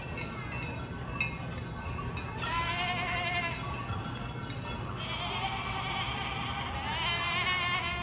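Stage actors dressed as sheep perform Les Moutons, imitating bleating with their voices, giving overlapping nasal baa calls that swell in waves, close and loud, with a faint clink near the start.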